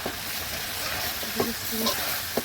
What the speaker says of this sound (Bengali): এগুলো ভালোভাবে কষিয়ে শুটকি দিয়ে দিলাম, একটু কিছুক্ষণ কষিয়ে নেব।